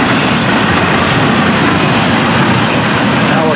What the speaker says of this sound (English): And a stack train.